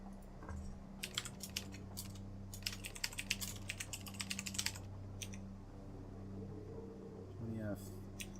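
Computer keyboard typing in steady bursts of sharp, close clicks, pausing briefly and resuming, over a low constant hum of room noise.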